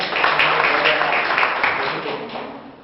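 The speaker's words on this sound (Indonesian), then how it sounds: "tepuk tangan yang sekali lagi untuk kita" An audience applauding steadily at a business presentation, a dense wash of many hands clapping that slowly fades toward the end.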